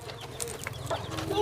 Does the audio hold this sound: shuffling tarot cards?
no